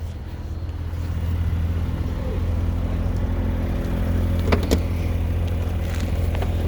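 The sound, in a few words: 2021 Range Rover Sport HSE turbocharged engine idling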